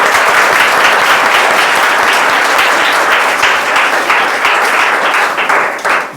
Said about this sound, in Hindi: ताली बजाओ भाई इसके लिए।